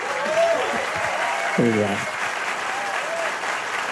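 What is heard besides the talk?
audience applause for new pastor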